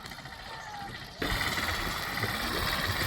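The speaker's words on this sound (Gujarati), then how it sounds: "છોકરા ટ્રેક્ટર લઈને આવે." A tractor engine running, a rough, low idling rumble that suddenly grows louder and fuller partway through, then holds steady and close.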